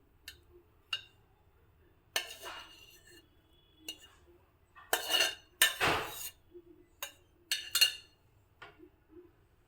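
Hot cooked rice is stirred into fried greens and capsicum in a pan, with scattered metallic clinks and scrapes of a spoon against the pan coming in short separate bursts against a quiet background.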